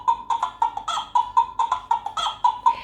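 Recorded chicken clucking played from a battery-powered children's sound book, a rapid run of about a dozen short, evenly spaced clucks, close and thin-sounding, with no talking.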